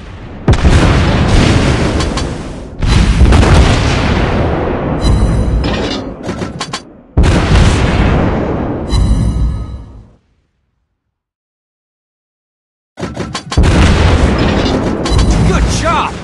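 Naval gunfire and explosions from the battleship Colorado in World of Warships Blitz: loud, heavy booms in long rumbling waves. A few seconds of complete silence fall near the end before the blasts resume.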